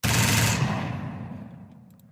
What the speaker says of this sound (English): Gunfire SFX Pixabay. Let's actually download this. Free gun. Let's see. Machine gun.